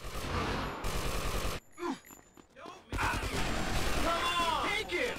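Rapid bursts of gunfire in GTA Vice City Stories break off abruptly, then resume amid shouting voices. The clip is short and chaotic.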